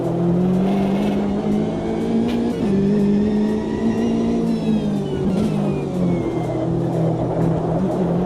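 A race car engine in Automobilista 2 on the Long Beach street circuit holds a loud, steady drone throughout, its pitch dipping and rising slightly as it charges into turn 1, with no voices.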